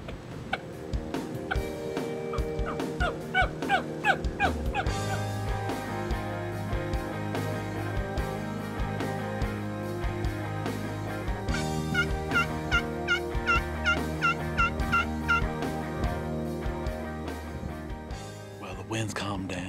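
Turkey hens calling repeatedly outdoors in the evening, a run of clucks and yelps at varying distances over a steady background drone, with a voice speaking at times.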